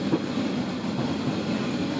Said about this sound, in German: Wie mit einer Straßenbahn fährt die Molly dann jetzt hier entlang der Straße.